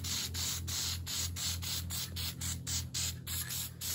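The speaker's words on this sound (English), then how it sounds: "you take some PJ1 air filter spray. And I just coat it just a nice amount," PJ1 air filter spray coating a dirt bike air filter, a series of short hissing bursts in quick rhythm, close and fairly quiet.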